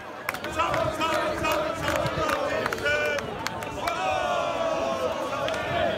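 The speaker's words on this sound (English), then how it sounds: "in Blackpool, where more fighting broke out in the crowd" Rowdy crowd at a Blackpool street protest, with overlapping shouts, yells and agitated babble rising and falling throughout, dense and fairly close, suggesting scuffling in a packed gathering.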